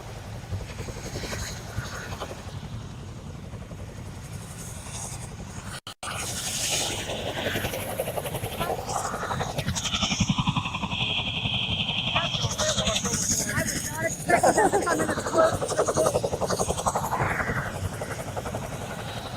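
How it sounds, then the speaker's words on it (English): A military helicopter rumbles and whines continuously before an airborne jump, with engine and rotor noise filling the background. Voices talk over it and one brief dropout breaks the sound partway through. "As you can see, Kayla, they're doing their final checks as they're getting ready to get out of the helicopter."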